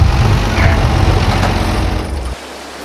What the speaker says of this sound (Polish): podstawię ciągnik i pójdę do domu